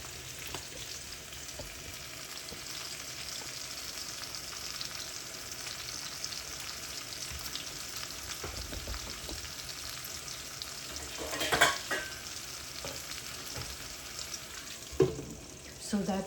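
Egg fried rice with onion, capsicum and bean sprouts sizzles steadily in a partly covered pan. There is a constant soft hiss with a few sharp clatters near the end.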